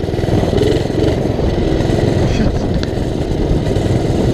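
A minibike's small engine revs loud and steady right up close, droning continuously with a slipping clutch, buzzy and uneven in tone.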